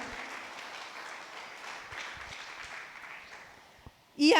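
Church congregation applauding during a worship service, a dense steady roar of clapping from a large crowd that fades toward the end before a loud voice cuts in.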